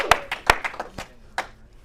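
A small group at a holiday recovery meeting gives a brief round of applause: a few scattered, close claps spaced irregularly, sparse rather than a full ovation, fading out within two seconds.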